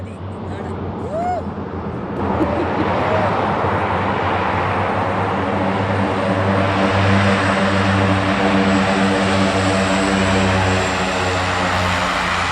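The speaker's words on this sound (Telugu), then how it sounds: "ఫ్లైట్ మన ముందరే ఉన్న రన్వే పైకి కేవలం కూతవేటు దూరంలోకే వచ్చి నిలవడము" A propeller airplane arrives on a mountain airstrip runway at Jomsom, its engine drone and prop hum growing louder and steady after the first two seconds, holding close and strong throughout.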